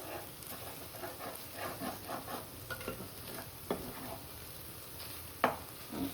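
Egg scrambled and stirred in a frying pan with soya keema, a soft sizzle running under repeated scraping stir strokes and a few sharper clacks of the utensil against the pan.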